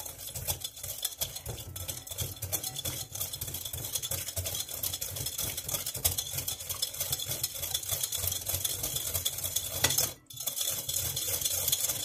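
Egg pie cake batter with butter being stirred in a bowl, a steady continuous scraping and swishing at close range that runs the whole time with a brief pause near the end, and no talking.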